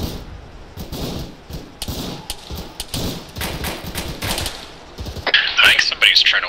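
Gunfire walking in toward players in the video game ARMA 3, scattered cracks and thuds throughout, growing into a louder, sharper volley near the end, with people talking over it.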